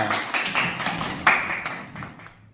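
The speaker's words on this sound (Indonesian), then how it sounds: "Beri aplaus buat Mbak Dita." A classroom gives a short burst of applause for a student, with scattered hand claps close by, fading out after a couple of seconds.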